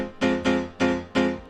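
Unprocessed Addictive Keys piano on its House Keys preset, tech house style: four bright, punchy chord stabs in a steady syncopated rhythm, each decaying quickly, dry, close and alone.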